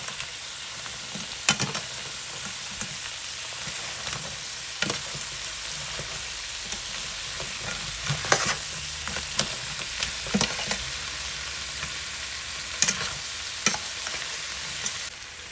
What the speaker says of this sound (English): Then I combine it, making sure that the seasoning is going right through under the shell of the crab